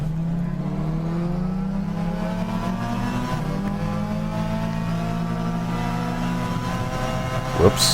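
A Super GT500 race car in Gran Turismo 6 holds a loud, sustained engine drone, its pitch rising steadily through the gear, with a short burst of noise near the end.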